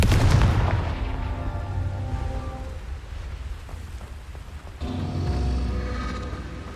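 A Confringo blasting spell in Hogwarts Legacy opens with a loud, booming burst, and its crackling rumble trails off into a noisy wash. A second blast hits sharply near the end, with no talking.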